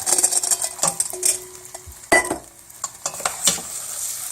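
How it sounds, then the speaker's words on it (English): Arborio rice is tossed into a pot of hot butter and olive oil, giving a sizzle with scattered scrapes and clinks of a spoon against the pan, close and moderately loud. "we're just going to throw the arborio rice into the pot"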